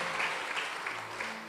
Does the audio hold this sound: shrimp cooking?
no